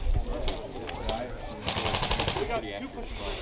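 Airsoft gun firing outdoors at a field game, a run of quick sharp shots close by over steady wind and rustle, with people talking nearby.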